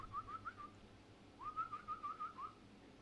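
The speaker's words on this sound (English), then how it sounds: "YouTube listeners got a free bird whistle" A pet bird whistles two short, clear melodic phrases in a quiet room, the second longer than the first, with no talking.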